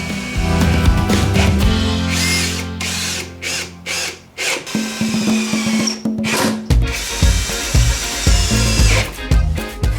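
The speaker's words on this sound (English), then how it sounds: "I used 3 1/4 inch construction screws to mount the backrest to both the feet and seat" A power drill drives 3 1/4 inch construction screws into wood while a kitchen chair backrest is mounted to its feet and seat. The motor whines loudly in repeated bursts that start and stop, each bite into the wood audible as it runs.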